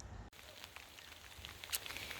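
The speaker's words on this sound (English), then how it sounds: "It's raining." Rain falls along a lakeside trail near a boat launch, a soft steady hiss of drops, with a few brighter patters, continuing without speech.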